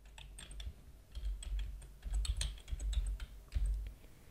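Typing text on a computer keyboard, close and quiet: irregular clusters of crisp key clicks with soft thumps, coming in short bursts separated by brief pauses, with no talk.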